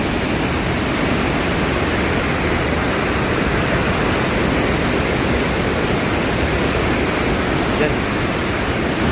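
A powerful waterfall in Norway roars close by in a dense, unbroken rush of water noise that stays loud and even from start to finish.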